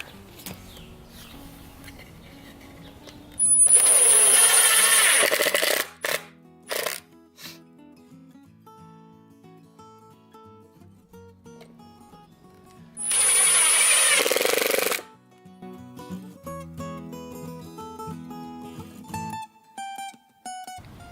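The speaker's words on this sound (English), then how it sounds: "I'm going to use 1-inch screws to screw them to the back" A power drill drives 1-inch screws into reclaimed wood, two loud whirring bursts of about two seconds each, separated by quieter handling clatter and faint birdsong outdoors.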